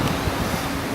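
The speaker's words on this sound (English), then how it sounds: "it's basically a walk-through shower because it's got water coming out of it" A walk-through street fountain in Bucharest, Romania sprays water, producing a loud, continuous hissing rush of falling water heard close and alone for a single moment.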